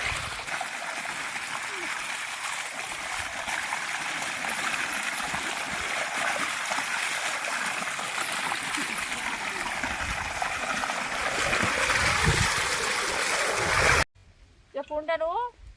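Continuous splashing rush of water pouring, steady and close, building slightly louder before cutting off; a voice speaks briefly at the end.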